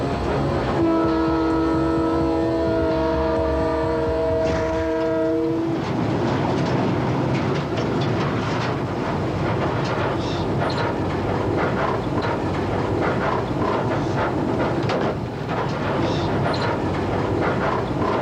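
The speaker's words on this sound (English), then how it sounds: "the daily passenger train running between Bulawayo and Victoria Falls" The daily passenger train between Bulawayo and Victoria Falls rumbles steadily along the rails with rhythmic clattering wheels, and a long horn blast sounds near the start before the rolling noise continues.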